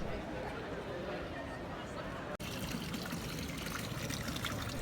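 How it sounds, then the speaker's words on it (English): Water from a public drinking fountain in Rome trickles and splashes steadily throughout, with busy crowd chatter and street noise in the background. "Now this is a public drinking fountain, like a water fountain outside"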